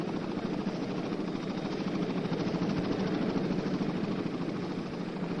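Marine helicopters fly during Operation Dewey Canyon in the Vietnam War, producing a steady, loud, continuous rotor thrum with a dense low rumble and no pauses.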